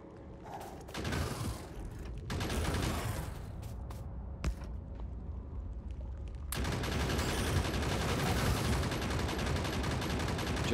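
Rapid gunfire mowing down biters in Factorio, dense mechanical rattling bursts that build into a louder sustained volley toward the end, with brief voice remarks.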